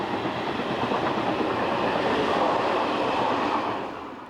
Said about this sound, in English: one of the 5 passenger locomotives, number 6520, heads the 1910 departure from Saint-Jean-de-Maurienne to Modane